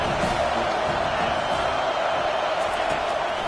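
Home crowd at a football game roars steadily on a big third down, a dense continuous wall of cheering with no break, while talk runs over it.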